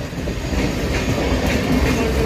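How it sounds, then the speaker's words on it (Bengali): A train rolls slowly along the rails, a steady close rumble of wheels with faint rhythmic clatter and no voices. "খুবই আস্তে আস্তে ট্রেন যাচ্ছে"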